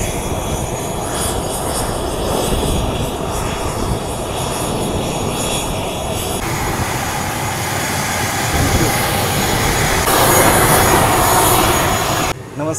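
A private airplane taking off from the Solapur runway, its engines roaring loud and steady throughout and swelling further toward the end.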